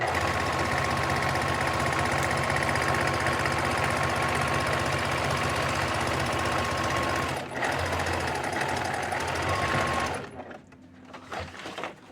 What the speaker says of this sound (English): I'm gonna pull my sewing machine forward and stitch the other side down now.